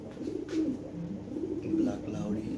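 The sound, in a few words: Lahori pigeons cooing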